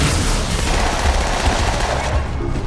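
Rapid bursts of plasma pistol fire in a Halo 2 Anniversary free-for-all match, a dense, continuous volley of energy shots with no talk over it.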